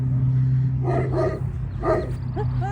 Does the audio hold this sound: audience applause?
no